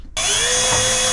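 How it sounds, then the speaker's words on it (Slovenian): A power drill starts abruptly after a brief silence and runs at a loud, steady high whine, close by, while someone works on a van. "Da grem jaz zdaj vrtat."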